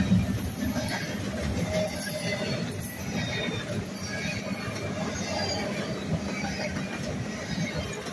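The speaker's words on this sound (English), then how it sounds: "Here's some BNSF wells. These are the wagon wheels." BNSF well cars on a CSX freight train roll past at Elsmere Junction: a steady rumble of wheels on rail with sharp, intermittent metallic squeals, heard alone at moderate distance.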